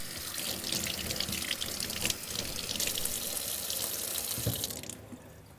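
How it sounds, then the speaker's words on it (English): Tap water runs steadily into a sink while Gaggia Velasca Prestige coffee machine parts are rinsed, a continuous close splashing hiss with small knocks of the parts, then the flow cuts off near the end. "Rinse everything off."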